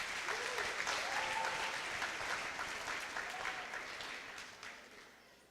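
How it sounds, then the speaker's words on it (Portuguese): Applause from a church congregation, steady clapping throughout that fades gradually toward the end, heard at a moderate distance in a reverberant hall. "Vamos aplaudir a vida do Cris, irmãos."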